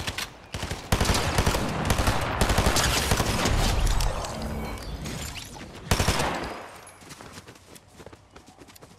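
Pistol fire in a Fortnite match comes as dense bursts of sharp reports in quick succession, loud and close, easing off near the end.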